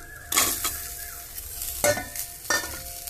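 Black pepper, dried red chillies, curry leaves and onion roasting in a pan, with a soft sizzle under three loud, rough bursts of stirring, each a scraping rustle of spoon against pan, heard close.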